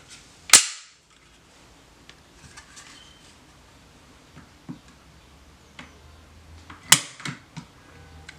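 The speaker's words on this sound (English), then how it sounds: "I'll go ahead and I'll check the trigger pull on this SD40VE with the factory trigger still installed." Dry-fire trigger pull on an unloaded Smith & Wesson SD40VE pistol with its factory trigger: two sharp, loud metallic snaps several seconds apart, with faint small clicks and handling ticks in between.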